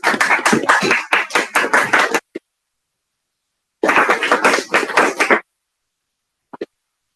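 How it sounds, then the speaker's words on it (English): Audience applause for Toastmaster Rashmi at an Eloquent Toastmasters Club meeting: two loud bursts of dense, close clapping, each about one to two seconds long, with a short silent gap between them and a couple of faint taps at the end. "A big round of applause for Toastmaster Rashmi."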